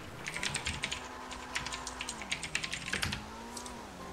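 Quick, uneven clicking of a computer keyboard during a GTA V Online gaming session, light taps in short flurries with brief pauses, heard close but quiet over a low steady hum.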